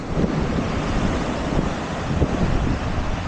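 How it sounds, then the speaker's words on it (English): Steady southerly wind buffets the microphone on an open seashore during a codling fishing session, a constant loud roar with surf washing underneath and no speech. "That wind's blowing a bit southerly, southeasterly, so we'll have to tolerate with the wind."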